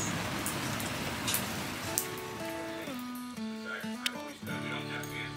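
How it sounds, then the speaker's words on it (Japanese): Steady rain falls during a typhoon, a continuous hiss of drops on surfaces throughout, with a few tonal musical notes playing over it. "今日は一日中雨が降っています。"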